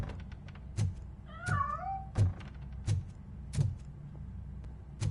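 Cat meowing in a RoboCop video game, two short rising and falling meows in the middle among repeated sharp clicks and thumps at a regular pace, fairly clear and close.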